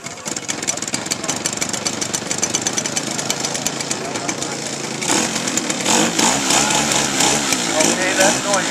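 A model airplane engine at a flying club open house chatters at idle, then catches and runs louder and rougher in a buzzing drone, with people talking close by throughout.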